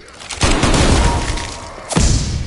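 A frag grenade blows up a zombie in a video game: a loud, close boom with a shattering burst, then a second heavy impact a moment later, all over game noise.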